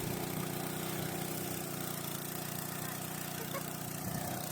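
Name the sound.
engine-driven water pump running at a fishpond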